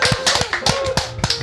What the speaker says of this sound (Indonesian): Ini dia Mas Hari, tepuk tangan.